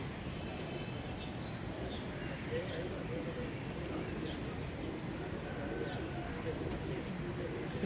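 Pigeons cooing softly in a steady background murmur, with occasional faint chirps and a low ambient hum.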